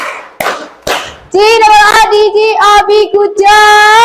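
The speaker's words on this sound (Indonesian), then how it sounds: "Tepuk semangat versi 2." A group of children and a teacher doing a rhythmic classroom cheer, "tepuk semangat" version 2: a few sharp claps first, then loud chanting voices with clapping mixed in, close and lively.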